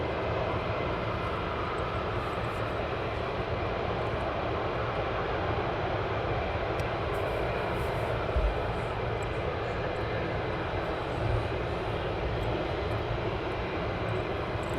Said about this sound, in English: And Andrew Graham, nice to see the F-15s RAF Lakenheath.